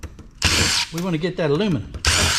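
A power driver whirs in two short bursts while unscrewing screws from an e-waste hard drive caddy, with a person talking between the bursts.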